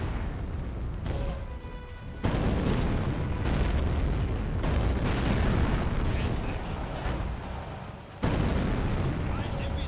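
Heavy gunfire from 6-pounder anti-tank guns in a video game battle, loud repeated booming blasts with short gaps between them, dense and close.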